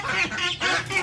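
Golden Buff hens released from their coop give loud, close, nasal squawking calls in about three quick bursts, with no talk.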